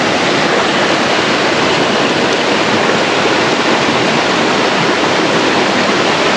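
Cold river water pours and rushes continuously during an outdoor river shower, a loud, close, steady broadband roar with no pauses and no voices.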